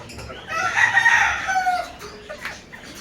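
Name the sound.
gamefowl chickens, Apache Gray hens and roosters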